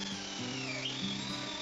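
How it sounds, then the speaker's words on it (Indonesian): A 3 mm bit boring into a wooden beam for a tatami bed frame, with a steady whirring drill tone that shifts pitch as it bites, fairly close and continuous, with no speech. "Untuk mempermudah pemasangan skrup, saya mengebor kayunya terlebih dahulu. Saya menggunakan bor dengan ukuran 3 mm."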